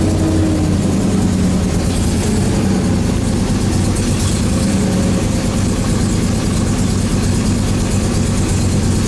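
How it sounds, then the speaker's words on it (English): A 1969 Corvette C3 big-block engine, a garage find, idles loudly and roughly up close, a continuous rumbling drone with a slightly uneven, lumpy pulse throughout, barely staying running. "I had to keep my foot on gas pedals just to keep the engine running"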